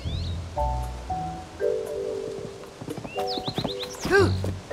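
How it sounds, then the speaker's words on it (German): Horse in Zelda: Tears of the Kingdom, with game-music tones and a short neigh near the end after scattered clip-clop hooves, fairly close and moderately loud. "Komm her, Pferd."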